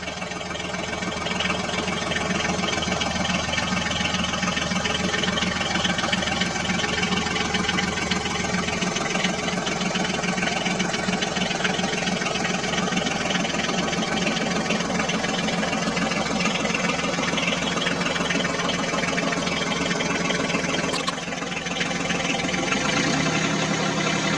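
A large diesel dump truck engine idles loudly and continuously while pulling out of mud, with a low throbbing rumble and mechanical rattle that deepens partway through.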